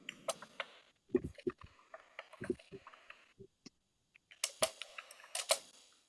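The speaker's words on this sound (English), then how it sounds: "I can hear you typing" Quiet, irregular clicks and taps like keys being typed, in uneven bursts with brief pauses, close and faint.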